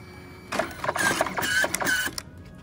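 A photo booth printer prints a photo strip nearby, giving a burst of whirring and stepping mechanical chatter with short squeaky tones that lasts about two seconds and then stops.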